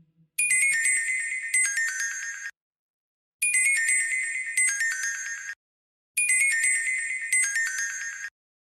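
A mobile phone ringtone plays a bright, tinkling melodic phrase in three repeated bursts, each about two seconds long with short silences between, clear and alone.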